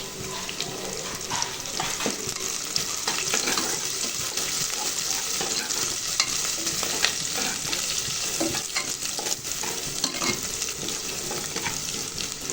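Curry leaves and onions fry in a pan, a loud, constant sizzle mixed with frequent scraping and stirring noises, close up and with no voices.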